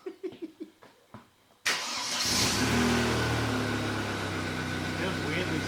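A car whose engine catches abruptly after a few short thumps, then settles into a steady, loud mid-range running rumble close by that continues without any pull-away.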